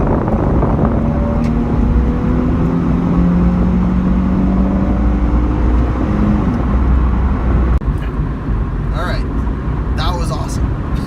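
A 2008 Nissan 350Z with a V6 engine accelerates hard from inside the cabin, a loud sustained engine roar with rising pitch sweeps, while voices talk and exclaim over it near the end.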